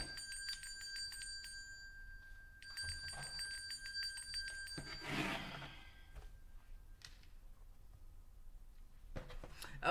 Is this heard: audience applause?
no